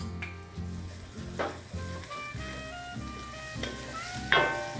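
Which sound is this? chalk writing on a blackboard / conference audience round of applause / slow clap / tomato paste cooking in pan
tomato paste cooking in pan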